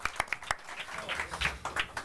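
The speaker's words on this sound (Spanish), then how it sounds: "Les pido un fuerte aplauso, por favor, para Ronaldinho" Audience applause for Ronaldinho at a press conference in Houston, a short burst of scattered, fairly close hand claps with some voices mixed in.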